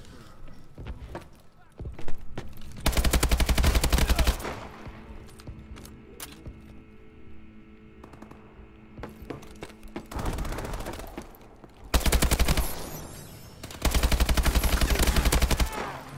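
Hair trigger gun fired in Call of Duty: Advanced Warfare, in several loud sustained bursts of rapid fire separated by quieter stretches of game ambience, with a voice talking in between.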